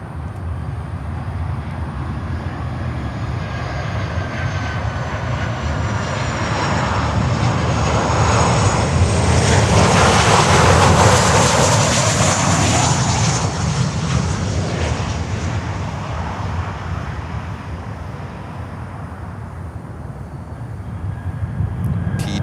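A jet in TWA retro livery at Miami airport passes with a roaring engine whine that swells to a peak midway and then eases off, a loud broadband rush with faint tonal whistles over it.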